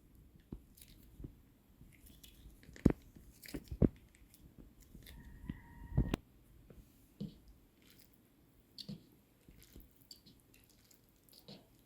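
A fork stirs instant cup noodles (Mr. Noodles Magic Masala) into their sauce, giving soft, faint, wet squishing and occasional light taps against the cup, quiet and intermittent with no speech.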